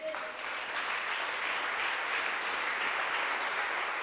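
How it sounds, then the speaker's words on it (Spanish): A church congregation gives a sustained, even round of applause that fills the room with a dense, muffled wash of clapping and no single claps standing out. "Démosle un aplauso al Señor."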